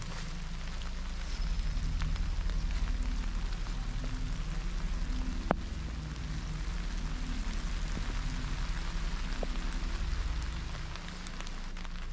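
Rain falls steadily outdoors beside a large cross in foul weather, a dense continuous patter and hiss at even loudness throughout, with no voices.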